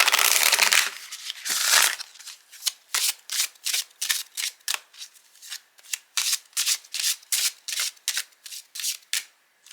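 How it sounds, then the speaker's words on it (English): Oracle deck cards are shuffled close up: a long riffle, then a rapid series of short, rhythmic card-slapping bursts with brief gaps. "we're going to shuffle, pull a card"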